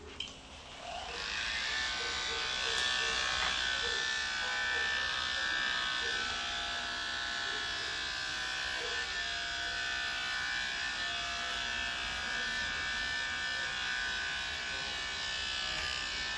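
Electric grooming clippers buzz steadily and close up while trimming a dog's fur after a bath, a thin continuous whine that holds at an even level from start to end.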